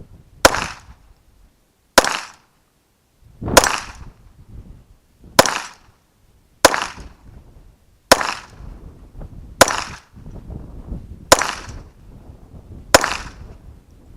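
A Smith & Wesson Model 422 .22 pistol fires nine sharp, separate shots at a steel dueling tree target, spaced about one and a half seconds apart, loud and near, each followed by a short ringing tail.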